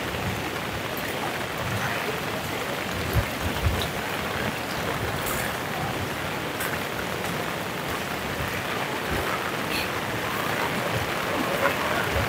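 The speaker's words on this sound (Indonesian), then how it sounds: "Kencang ini hujan." Heavy rain pours in a dense, steady roar over a flooded road in Gorontalo, Sulawesi, with occasional louder spatters, and voices can be heard faintly underneath.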